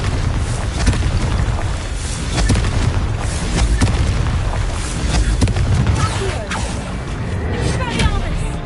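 Confringo blasting spell in Hogwarts Legacy, repeated booming bursts layered over continuous battle noise, loud and close, with voices calling out during the fight.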